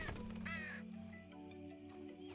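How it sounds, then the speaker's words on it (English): Crows caw in the video game The Talos Principle II, a couple of harsh, nasal calls near the start and then softer ones, over a low sustained musical drone. "Okay, birds."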